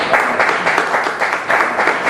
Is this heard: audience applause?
yes